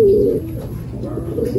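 A racing pigeon gives a short, close, throaty coo lasting under two seconds, loud and alone with no one talking.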